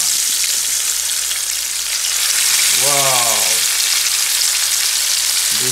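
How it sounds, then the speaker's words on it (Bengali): Koi fish frying in hot oil in a pan, a dense steady sizzle running throughout, with a brief tonal sweep of a voice or utensil near the middle. "ফিশগুলোকে ফ্রাই করার জন্য একটা ফ্যানে অয়েল নিয়ে নিছি"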